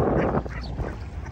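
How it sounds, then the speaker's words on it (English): Ducks gathered to be fed quack close by in a dense, jumbled chorus that lasts only a moment. "Literally all the ducks have come over here."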